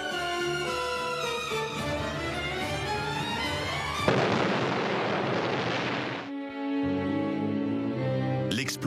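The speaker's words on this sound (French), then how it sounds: "L'explosion a entièrement soufflé le bâtiment." Dramatized bomb blast tearing apart a building during a conference assassination attempt: a single loud, broadband explosion erupts midway through, cutting across a music bed and rumbling briefly before the music returns.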